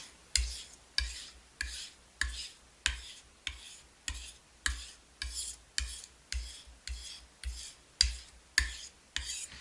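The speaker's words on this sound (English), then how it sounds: "And just sharpen it enough just to get rid of that burr we formed." A kitchen knife is sharpened on a whetstone to remove a burr, a steady series of about sixteen rhythmic rasping strokes, each a bright scrape with a sharp onset and fading tail, close and alone.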